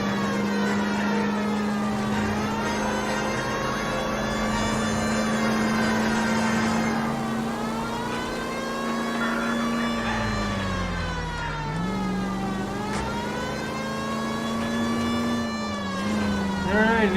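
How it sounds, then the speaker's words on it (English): A police car siren wails continuously in the L.A. Noire video game, a loud, sustained tone that rises and falls over a steady engine rumble. "My siren's on, it doesn't count."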